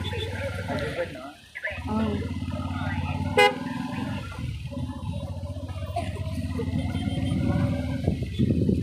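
Car horns honk repeatedly amid road traffic on the Manair dam road in Karimnagar, with a sharp toot standing out over the continuous engine noise and people talking nearby.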